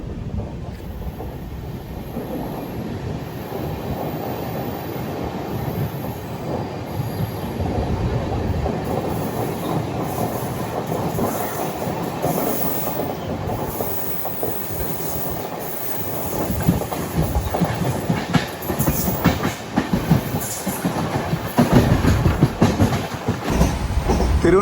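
A nearly empty long-distance passenger train runs on rails in southern India past Thiruvananthapuram. A loud, steady rumble carries through the whole stretch, with rhythmic clatter and scraping from the wheels that grow louder toward the end.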